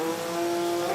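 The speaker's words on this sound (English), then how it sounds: "Toyota Chaser JZX 100, 2JZ 900 horsepower, comes off the line, flicks that car where it needs to be" Toyota Chaser JZX100 drift car with a 2JZ engine making 900 horsepower at a drift competition in Italy: a loud, steady, high-pitched engine note holds at full revs for the whole second as the car comes off the line.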